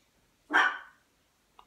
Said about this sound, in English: Dogs are barking at something in the garden.